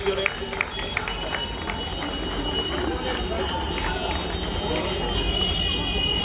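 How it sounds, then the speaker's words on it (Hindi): Steady applause from a crowd at an Independence Day celebration at a college, a continuous patter of clapping that holds evenly throughout, with some voices mixed in. "जोरदार तालियां जरा इन बच्चों के लिए"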